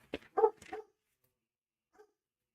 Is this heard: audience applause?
no